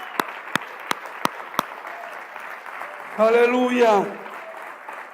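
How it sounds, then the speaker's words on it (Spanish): Five sharp, evenly spaced claps ring out in unison from a church congregation during a sermon, loud and close, followed by a voice calling out loudly over the room. "den un aplauso grande."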